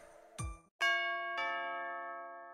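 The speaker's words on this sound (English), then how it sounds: "Ding dong. That's strange. All of our guests should already be here." A two-tone doorbell ding-dong chime from the game FGO, a sharp struck tone followed by a second bright ringing tone that sustains and slowly fades, clear and alone.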